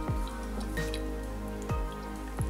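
Water dribbles from the spout of a displacement canister into a catch vessel in a school density practical, giving several distinct drips spaced irregularly over a steady background hum.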